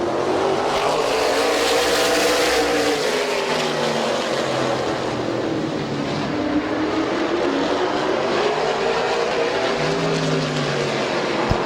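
Race cars roar past at Midvale Speedway, a loud continuous engine drone with rising and falling pitch as the pack sweeps around the oval, no voices over it.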